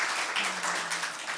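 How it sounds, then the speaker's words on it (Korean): Congregation clapping during a church Sunday worship service, a steady, even wash of applause that fills the whole moment at moderate volume, with a faint low hum underneath and no talking. "주님의 영광께 영광의 박수"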